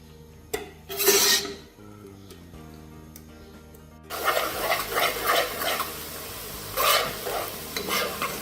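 Onion sautéing in a pan over a flame for a kadhi pakora recipe, a brief stir and clatter at first, then steady close sizzling and frying with scraping stirs.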